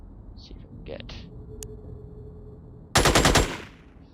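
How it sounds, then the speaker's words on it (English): Machine-gun fire in the Xenonauts video game, one loud rapid burst of shots near the end following quieter game blips and tones. "Good shooting, Winston."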